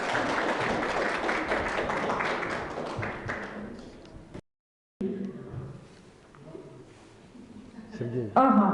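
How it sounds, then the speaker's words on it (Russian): Audience clapping at a 'Star Carnival' stage event runs thick and fairly loud, then fades away before a short silent gap, after which quieter voices and stage sounds take over. "Аплодисментами поддержим,"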